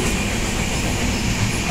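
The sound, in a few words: train travelling on the Konkan line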